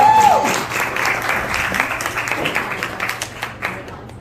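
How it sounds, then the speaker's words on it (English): A crowd gives interns a round of applause at a school felicitation event, steady clapping from many hands that fades gradually over about four seconds, with a short voice and a low hum at the start. "Come on, big round of applause."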